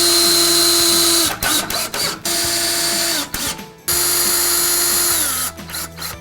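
A power drill drives screws during assembly of a Carrom foosball table, running in several loud bursts with a ratcheting whir, stopping and restarting between screws, close and alone without talk.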